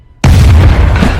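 A loud explosion in a film thriller, set off from what looks like a cotton bud: a sudden heavy boom after a brief quiet, followed by a sustained low rumbling roar with no speech.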